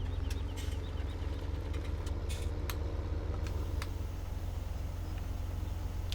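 A tractor engine in the Farming Simulator 17 video game hums in a steady, loud low drone that runs unbroken throughout, with faint clicks and light mechanical ticks on top.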